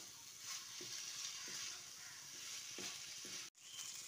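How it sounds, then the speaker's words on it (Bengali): Fried okra is stirred into spiced potatoes in a pan, a quiet, even sizzle punctuated by a handful of soft scraping strokes from the spatula, with no talking. "ভেন্ডিটা আলুর সঙ্গে ভালো করে এবার মিশিয়ে দিচ্ছি।"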